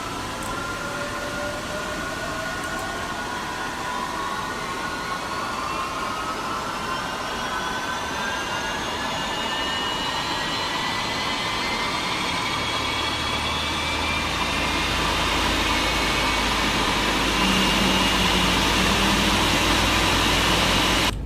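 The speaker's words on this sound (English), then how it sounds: "I'll start engine 2 in the meantime." A Boeing 777 jet engine in X-Plane 11 spools up with a rising whine that climbs steadily in pitch, joined by a growing low rumble as it reaches full roar.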